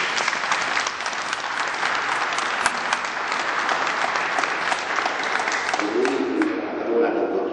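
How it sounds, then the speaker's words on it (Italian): An audience at a conference in a cathedral applauds in dense, sustained clapping that stays steady for over seven seconds, with a voice rising near the end. "Un applauso ci sarà."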